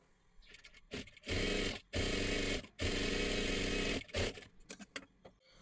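A sewing machine stitches along the neckline of a blouse in three sustained runs of rapid, loud mechanical whirring and needle clatter, separated by short pauses with small handling clicks and fabric movement, close to the machine.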